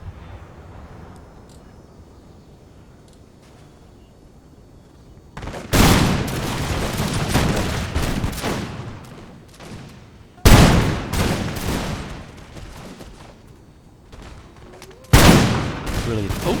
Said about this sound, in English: let's have a bit of firing then